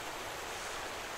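Rushing water fills the moment, a dense, steady wash of noise like flowing water or surf, brief and close.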